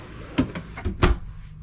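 Drawers in a Grand Design Momentum G Series RV slide open and shut, giving several quick, close knocks and thuds in a row.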